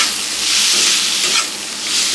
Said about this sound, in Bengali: এখন দিয়ে শাকটা দিয়ে দিব।